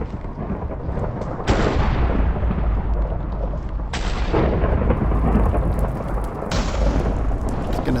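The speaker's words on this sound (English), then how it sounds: "It's going to strike. Lightning's going to strike" Thunder and storm from the Minecraft modpack Agrarian Skies, a steady heavy rumble of rain broken by three sudden loud lightning cracks, each followed by a long rolling boom, with no talking.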